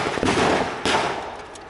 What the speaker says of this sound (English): Give him fire! Give him some covering fire!